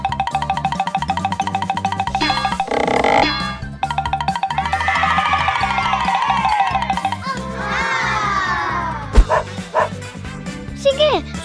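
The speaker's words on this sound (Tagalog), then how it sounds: "Tara na mga aso." Playful cartoonish dogs barking at an inflatable bounce house slide, repeated yips and bow-wows mixed with bouncy boing effects and a steady musical beat throughout.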